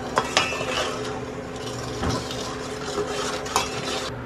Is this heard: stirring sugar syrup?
yes